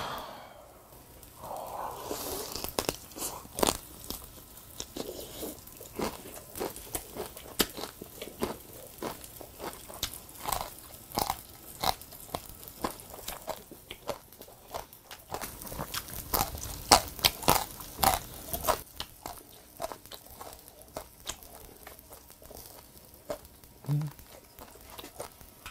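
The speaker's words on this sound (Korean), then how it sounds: "그러면 여러분 뼈까지 다 씹어 먹어도 뼈도 잘 으깨지고 고소하고 맛있습니다 진짜" Someone chews charcoal-grilled quail, bones and all, producing repeated close crunching and biting sounds with pauses and soft breathing in between.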